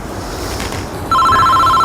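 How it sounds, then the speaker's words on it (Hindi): A telephone ringtone starts partway through and rings steadily and loudly with a repeating electronic tone, over a room noise background. "अरे फोन आ रहा है।"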